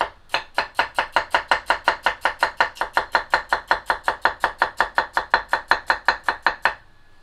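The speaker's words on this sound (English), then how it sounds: "it cuts and chops so much easier" A Made In Santoku knife chops food on a cutting board in a fast, even run of about thirty crisp strokes, loud and close, with no talking.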